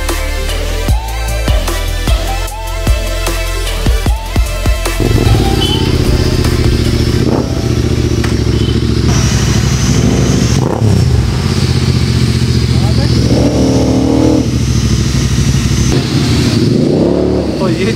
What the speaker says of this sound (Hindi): जो मैंने अभी बाइक की आवाज़ आपको सुनाई